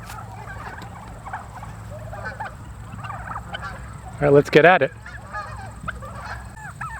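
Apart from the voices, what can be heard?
turkeys on pasture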